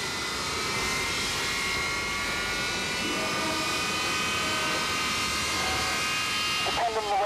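Avro Vulcan jet bomber engines spooling up one at a time during start on number four, a steady whining roar with rising high tonal lines held throughout, loud and continuous.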